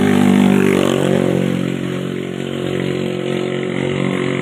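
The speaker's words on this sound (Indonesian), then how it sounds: "ada suara motor lewat tadi ya" A motorcycle engine passes close by, loud and steady with a buzzing drone that eases slightly midway, heard alone with no talk.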